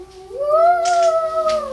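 A voice imitates dogs howling, a single rising, drawn-out vocal howl that swells and then tails off, close and clear with no other sounds.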